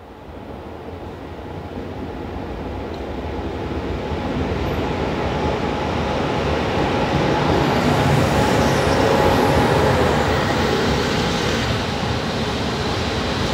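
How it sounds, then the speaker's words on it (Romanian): A double-decker Regio passenger train pulls in on track 1 at a mountain-valley station, a broad steady rumble of wheels and rail noise building gradually and holding loud and close, with no talk over it. "Vine ceva tren regio."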